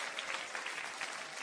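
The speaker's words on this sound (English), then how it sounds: "Take all them claps" A crowd applauds in a steady, dense wash of clapping, moderately loud and continuous with no voices on top.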